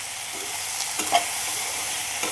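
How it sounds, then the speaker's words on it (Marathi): Okra being stirred and fried in a pan, a steady close sizzle with a few soft scraping stirs, no voices. "मस्त हलवून घ्यायचं थोडीशी कच्ची वाटती आहे ती त्याला अजून फ्राय होऊ द्यायचं"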